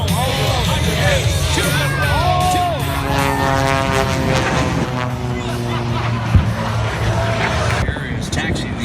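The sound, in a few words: C-130 aircraft taxiing at air show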